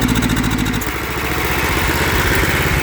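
A vintage welder's engine runs with the choke on, a loud, close, rough rhythmic putter whose firing pattern shifts and steadies after the first second, with no voices.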